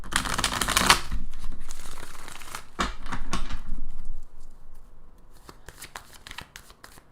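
Tarot cards get a quick shuffle by hand, a close, crisp riffle and patter of cards that starts loud, fades into softer scattered flicks and taps, with no voices.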